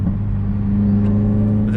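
Subaru WRX engine with an open J-pipe exhaust idling and revving steadily, a loud, close, droning rumble with a strong low hum, holding a constant pitch for under two seconds with no talk.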